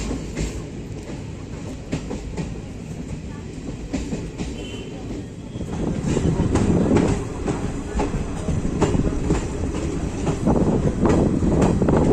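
The Uttarbanga Express from Sealdah to New Coochbehar runs on rails, heard from on board as a loud continuous rumble with rhythmic clickety-clack that swells louder halfway through.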